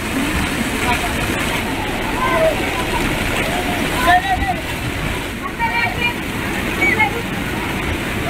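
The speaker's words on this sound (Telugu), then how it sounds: "వరదలకు డ్రైనేజీలు ప్రమాదకరంగా ప్రవహిస్తూ ఉన్నాయి" Floodwater rushes through street drains during heavy rain in Guntur district, a dense continuous roar of flowing water with faint splashes, and voices are heard over it.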